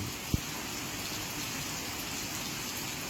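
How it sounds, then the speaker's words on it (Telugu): Steady rain falls at a hillside temple as a dense, even hiss, with a single faint knock early on and no voices. "అదేవిధంగా ఈసారి కూడా వర్షం పడుతుంది"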